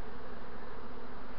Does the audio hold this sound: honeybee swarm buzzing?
yes